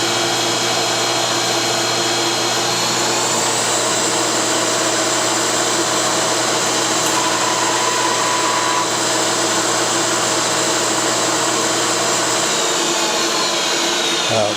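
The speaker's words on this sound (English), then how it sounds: "I found the centre and started to drill" A drill bores a hole sized for a 5/16 tap into the top yoke of a Yamaha Commando motorcycle. It produces a loud, steady, unbroken whine that runs continuously from start to finish.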